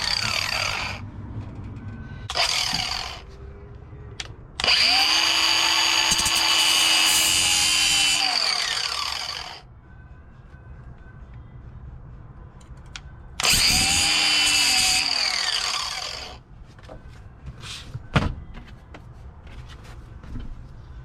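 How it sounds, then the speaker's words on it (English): DeWalt angle grinder cutting into a Kenworth or Peterbilt steering column part, loud bursts of high whining grind lasting several seconds each, with spin-ups and wind-downs between and quieter clanks in the gaps, close with no speech. "Pulling the grinder out."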